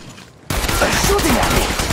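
Dense gunfire from enemies in a fast-paced sci-fi shooter video game erupts suddenly and keeps up as a loud, continuous barrage after a brief quieter moment.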